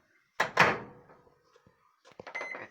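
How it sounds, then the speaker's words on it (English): A single microwave oven door thunk, then a softer clatter as a Pop-Tart is placed inside, followed by light clicks and rattling, fairly close. "Then you put it in the microwave"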